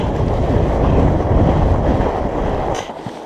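Strong wind buffets the microphone on a winter night ride on a Surly Moonlander fat bike, a loud steady low roar that dips slightly near the end.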